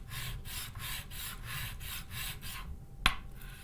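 A spokeshave blade clamped in a vise grip is sharpened with about eight steady, rhythmic back-and-forth rasping strokes, close and clear, then a single sharp metallic click.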